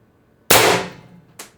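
A single sharp shot from a Pistelle X-68 HPA airsoft carbine running at 800 psi with 10 gram BBs, loud and close with a quick decay, followed by a fainter short mechanical snap about a second later.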